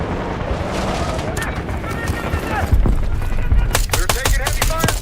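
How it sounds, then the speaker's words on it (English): Sustained gunfire in the video game Call of Duty: Black Ops 6, with dense rapid shots and cracks over a constant roaring battlefield background, growing louder partway through. "You got gunfire to the right."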